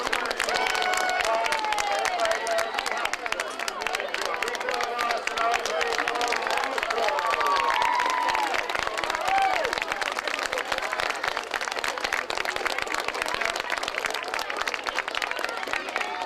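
A crowd applauds and cheers after a school camogie final between Coachford and Ballyheada, a dense, steady wash of clapping and whoops with scattered shouts carrying on throughout.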